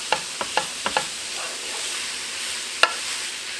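Wooden utensil scraping and tapping in a ScanPan while breaking up meat: several sharp knocks in quick succession, then a lone louder tap, over a steady sizzling frying hiss.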